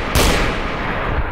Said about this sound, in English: Gunshots is making me more scared than the actual monster.